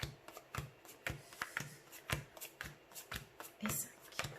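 Cards dealt one after another onto a table for the board game Degoblinade, a quick rhythm of close papery snaps and slides under a speaking voice.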